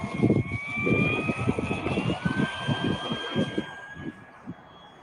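A radio-controlled Mustang model airplane flies past with a steady engine drone and a whine that slides slowly down in pitch, loud at first and fading as it moves off, with wind noise and no talk.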